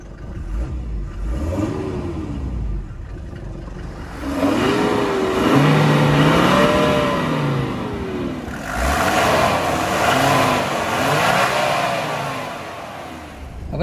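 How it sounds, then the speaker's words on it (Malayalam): A 1990s Mercedes-Benz W124 E250 diesel sedan revs several times, its exhaust note rising and falling in smooth, loud swells over a steady diesel idle, heard close and alone. "ഇതാണ് ഈ ഒരു വണ്ടിയുടെ ഒരു എക്സോസ്റ്റ് നോട്ട് എന്ന് പറയുന്നത്"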